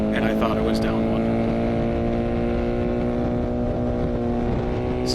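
A 1984 Honda VF500F motorcycle on a racetrack, ridden in too high a gear, drones with a steady, low-revving engine note close to the microphone, holding an even pitch throughout without climbing.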